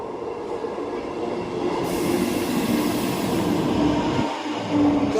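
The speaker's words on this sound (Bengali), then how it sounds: "এইটা হচ্ছে বারোটা ছত্রিশের লোকাল" A local train arrives at a station with a loud, close rumble of wheels and carriages, rising slightly as it nears and ending with a thin squeal of wheels on rails.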